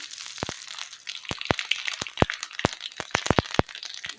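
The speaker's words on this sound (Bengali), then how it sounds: "তেলটা খুব ভালো করে গরম করে নিয়েছি এবার এতে দিয়ে দেবো এক চামচ পাঁচফোড়ন" Panch phoron spices crackle and pop in hot mustard oil, giving a quick irregular run of sharp, close snaps over a faint sizzling hiss.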